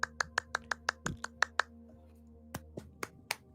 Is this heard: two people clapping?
yes